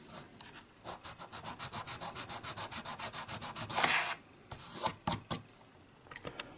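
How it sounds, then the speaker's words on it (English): Rhythmic back-and-forth sanding of a plastic part from a 1/72 scale Airfix Lancaster model kit, a steady run of close, scratchy strokes followed by a few slower, separate rubs. "I've cut most of it off using this chisel blade, and then just sand down what's left."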